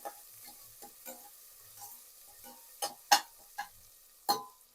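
Chopped onions and curry leaves frying in a pan for a green mint dish, a soft continuous sizzle punctuated by several sharp stirring scrapes and clacks.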